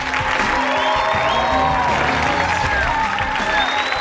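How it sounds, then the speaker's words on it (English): A television studio audience gives a sustained round of applause and light cheering as reality-show contestants return to the stage, with music playing underneath the crowd. "Give them a big round of applause."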